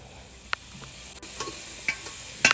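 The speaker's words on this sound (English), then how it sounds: "little lamb chops on the grill" Mini lamb chops sizzling on a grill, a steady soft hiss broken by a few sharp pops and crackles, close by with no talking.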